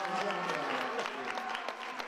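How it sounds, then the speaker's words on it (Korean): Audience applause after a children's student-made goblin musical, a soft continuous patter of many hands from a crowd, fairly faint, with some voices faintly mixed in. "연습한 뮤지컬 에듀라마에 아낌없는 박수가 쏟아집니다"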